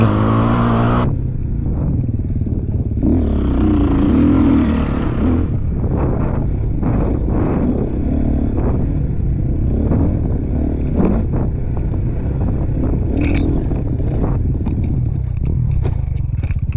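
Enduro motorcycle engine during a championship stage race, revving and surging continuously with wind buffeting the microphone throughout, loud and close, sharp throttle bursts scattered through the run.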